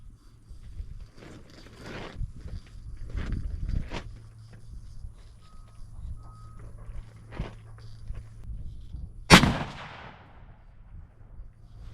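A Ruger American Gen II rifle chambered in .30-06 fires one sharp, loud shot outdoors near the end, following quieter footsteps and gear-handling sounds.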